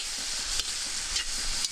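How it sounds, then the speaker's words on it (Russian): Sliced kabanos sausages and meats sizzle and crackle steadily in a hot pan over a grill, with faint stirring scrapes and no talking. "Смотрите, как шикарно у нас обжаривается"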